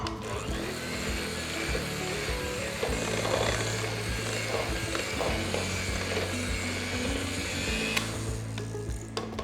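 An electric hand mixer beats American butter cream in a bowl, a steady mechanical whir with a low motor hum and rattling beater scrapes running continuously close up, with no talking.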